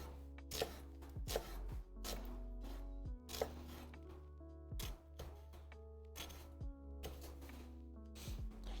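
A knife cuts around an onion, giving a run of crisp, close chops and thunks at an uneven pace, about a dozen strokes with quiet gaps between them.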